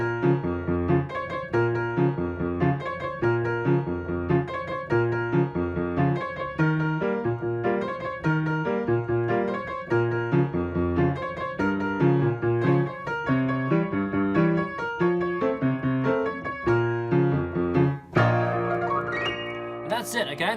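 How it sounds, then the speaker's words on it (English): Solo piano plays the Austin Powers theme in a steady syncopated bossa rhythm, with dense repeated chords and melody filling the whole stretch, close and fairly loud, ending on a final struck chord. "So applying it, it would just sound like this"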